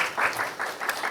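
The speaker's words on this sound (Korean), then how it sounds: "박수 한번 쳐갈까요" Audience at a community cultural activity presentation gives a brief burst of applause, a short patter of clapping heard up close.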